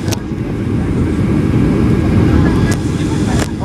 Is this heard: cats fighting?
no